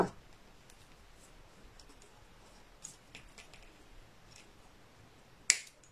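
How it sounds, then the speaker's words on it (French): A wire cutter snips iron wire flush while fitting a handle onto a finished woven basket, giving one sharp, close click after a quiet stretch with a few faint ticks before it. "je vais couper mon fil de fer juste à ras."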